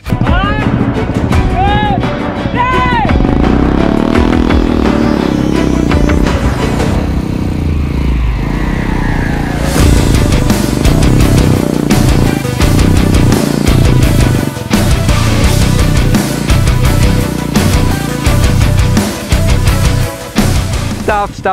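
A Royal Enfield Bullet 350cc motorcycle and an electric bike strain against each other in a tug of war, the Bullet's engine droning and revving loudly throughout, with shifting pitch, while people shout and talk nearby.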